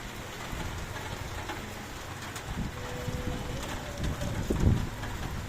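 Rain falls steadily through a windstorm outside a house, a continuous broadband hiss with gusty surges and a brief louder burst near the end, no voices present.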